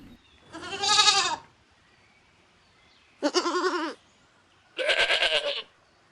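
Goats kept by a shepherd, unwell from hemlock poisoning, bleat three times in separate loud, wavering calls spaced by short pauses, close by and without talk.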